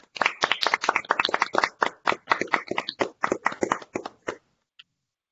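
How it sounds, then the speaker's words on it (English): An online audience claps after a mathematics talk. Many separate hands clap unevenly for about four seconds and then stop, leaving a brief silence with one faint tick near the end. "I would ask everyone to unmute themselves so that we can clap for Jeff and thank him for the talk again."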